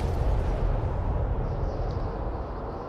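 A heavy, muffled explosion in the video game Fallout 3 fills the clip, a dense low roar that gradually tapers off.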